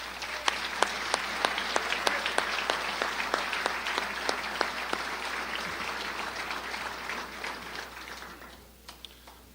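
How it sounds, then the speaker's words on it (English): An audience at a Crown Point State of the City address claps steadily, with sharp individual claps standing out over a dense wash of applause that fades away near the end. "Adam Graper, let's give him a round of applause."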